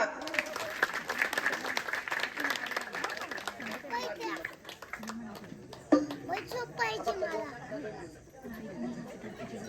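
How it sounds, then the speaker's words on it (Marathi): Applause from a crowd gathered at a Shiv-Parvati wedding ceremony for Mahashivratri, scattered claps mixed with chatter and children's voices, fading somewhat toward the end. "टाळ्या वाजवा"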